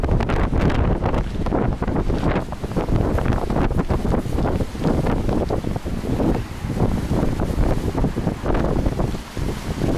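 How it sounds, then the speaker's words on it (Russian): Strong wind roars and buffets the microphone continuously and loudly near the sea in Turkey, with surf-like rushing beneath it, no voices present. "Не могу передать, какой силы ветер, я такого не ожидал"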